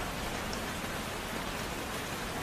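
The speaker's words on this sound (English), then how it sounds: "it was raining." Steady rain pours down outdoors, a dense, even hiss with no gaps and no voices.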